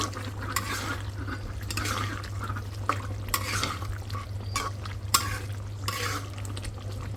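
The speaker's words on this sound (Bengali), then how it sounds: "দেখেন কত পানি উঠছে লড়াচড়া দিই" Watery food being stirred in a cooking pot, with liquid sloshing and scraping in a steady, continuous rhythm, close and moderately loud over a low constant hum, no talking.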